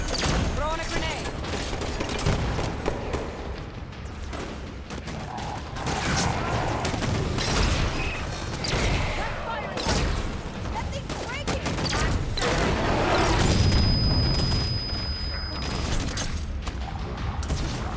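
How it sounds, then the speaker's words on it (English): A grenade thrown and exploding amid a Halo 5 campaign firefight, with heavy gunfire bursts and mechanical clatter throughout, loud and busy, and a voice speaking over the battle. "Throwing a grenade."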